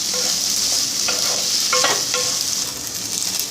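Kozhukattai frying in ghee with pepper and cumin gives a steady, loud sizzle, with a few clinks of a utensil stirring the pan partway through.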